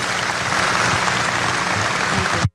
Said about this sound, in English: And everybody applauds.